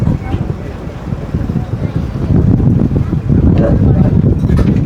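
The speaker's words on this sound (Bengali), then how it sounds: "হাওয়া দিচ্ছে, উড়ে না যায়" Strong outdoor wind buffets the microphone in loud, gusty rumbles, likely aboard a boat in the Sundarbans, with people talking underneath.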